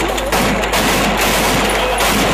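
Rapid gunfire from a Pakistani wedding celebration, with a shotgun among the weapons, rattling as a dense, continuous barrage over a loud outdoor roar, with no clear gaps between the blasts.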